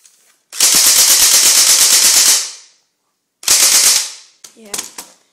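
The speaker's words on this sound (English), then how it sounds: "and then it has full automatic." A Crosman TAC R71 airsoft gun firing on full automatic: a rapid, loud burst of roughly two seconds, a pause, then a shorter burst, followed by brief clicks and handling noise.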